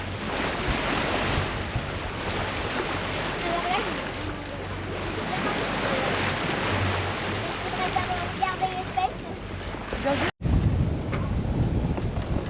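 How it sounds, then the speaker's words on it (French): Wind rushes steadily over a sailboat at sea on an Atlantic crossing from the Canary Islands to Cape Verde, with waves and splashes beneath it, loud and continuous, while people talk intermittently. "Enfin, on a un peu de vent."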